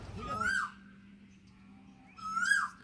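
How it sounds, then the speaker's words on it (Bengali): Asian koel calling outdoors near rice fields and gardens, two separate rising, whistled calls a couple of seconds apart, moderately near, with low background hum between. "কোকিল ডাকছে, শুনতে পাচ্ছ তো?"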